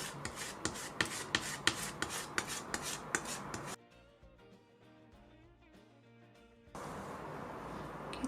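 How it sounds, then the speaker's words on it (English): Pink sculpture paste scraped with a tool on a palette while painting an iris lily: a fast run of rhythmic rasping strokes, close and fairly loud, then a quieter stretch and a steady rubbing texture near the end. "now start scraping the pink color sculpture paste in the same way as you did for the purple"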